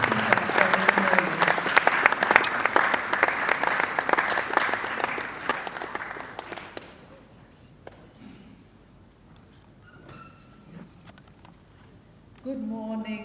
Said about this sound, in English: a round of applause for Professor Regina Appiah, our keynote speaker for this morning